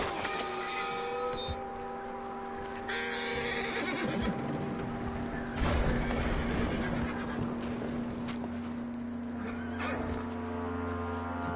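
In a video game, a horse whinnies and snorts amid clopping hooves and scattered thumps and rustles over steady background tones, with the animal close and fairly loud and no talk heard.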